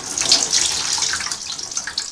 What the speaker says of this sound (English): I want to do this with a dipper rinse